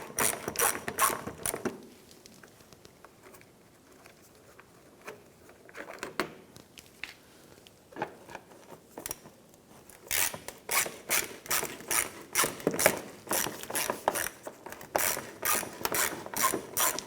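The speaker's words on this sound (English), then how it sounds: "Using a 7mm socket, I'm going to start by removing these two screws right here." A ratchet fitted with a 7mm socket backs out screws on a 2006-2013 Chevrolet Impala, rapid clicking bursts near and clear, pausing mid-way and then resuming in steady repeated runs.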